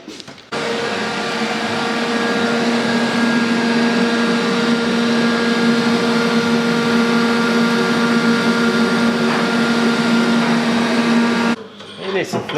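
MIG welding tack welds on a Porsche 911 exhaust, heard as one steady, loud buzzing crackle with a constant electrical hum that runs unbroken for about eleven seconds before it cuts off.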